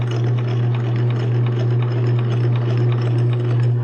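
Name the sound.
sewing machine stitching fabric with hump jumper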